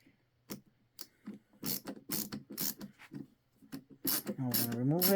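A Milwaukee ratcheting screwdriver backs out a screw by hand, giving a run of sharp, close ratchet clicks in uneven bursts, ending in a louder grinding turn.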